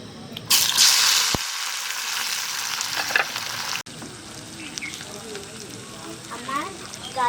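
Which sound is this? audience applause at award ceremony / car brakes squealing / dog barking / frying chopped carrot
frying chopped carrot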